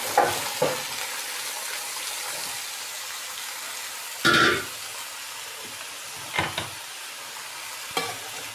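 Cauliflower frying with garlic ginger paste in a pan, a low continuous sizzle broken by several short bursts of louder hissing and stirring scrapes spaced a few seconds apart.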